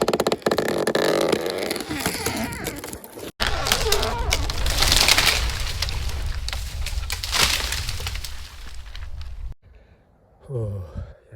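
A small chainsaw cuts through a large aspen branch, a loud, rough buzzing drone running for several seconds before breaking off, then quieter rustling at the end.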